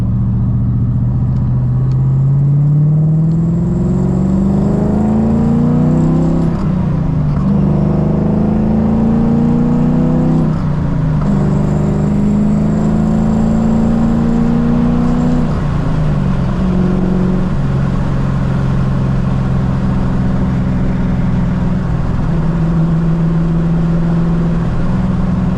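Cammed 450 hp G35 with an LS engine swap cruising on the road, its loud, steady engine drone rising through several gears with brief dips at each shift, heard from inside the car with no talking.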